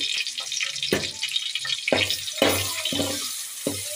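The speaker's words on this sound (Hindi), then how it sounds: "अब इसको एक मिनट में सौते कर लेती हूँ" Garlic-ginger paste sautés in a hot pan for a salan of bottle gourd, giving a steady close sizzle broken by repeated louder bursts as the paste is stirred and turned.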